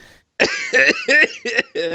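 A run of five or so harsh, voiced coughs in quick succession, close and loud, after a brief silence.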